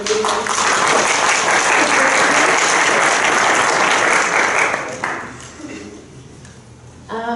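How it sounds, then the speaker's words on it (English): Applause for the sponsors at a conference's welcome session: a full hall clapping steadily for about five seconds before it tapers off, with a voice returning near the end. "I would like to ask you to applaud them"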